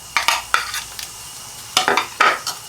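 Besan batter for chilli pakoda being stirred in a bowl, with spices, chillies and baking powder mixed in. Close utensil scrapes and clinks come in two clusters of quick strokes with a pause between, and no one talks.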